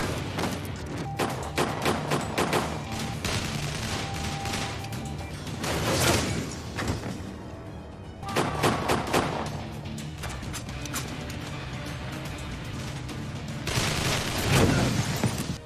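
Gunfire from a .50 caliber sniper rifle in an action film scene, with loud repeated shots and crashing impacts in bursts over a busy, dense soundtrack, including a heavy cluster near the end.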